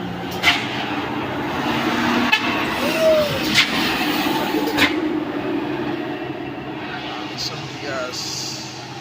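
Heavily loaded truck grinding up the steep Kedabuhan hill in heavy rain, a loud steady low engine drone with road and rain noise, a brief horn-like tone, and people talking over it.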